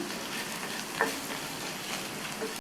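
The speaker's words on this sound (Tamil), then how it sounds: "இதை நல்லா வதக்கி விட்டுக்கணும். வெங்காயம்லாம் நல்லா வதங்கணும்." Steady, soft sizzling of onions sautéing in a pan, with a light scrape of stirring partway through.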